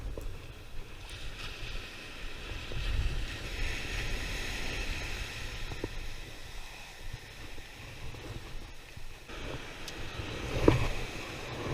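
Ocean waves washing onto a beach with wind buffeting the microphone during shore fishing, a low rumbling surge that swells and fades, faint and continuous with a brief knock near the end.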